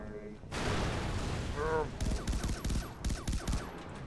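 Gunfire from a weapon in Far Cry 3 Blood Dragon, a rapid burst of loud shots crackling after a brief lull, with a short tonal game effect in the middle and bursts continuing to the end.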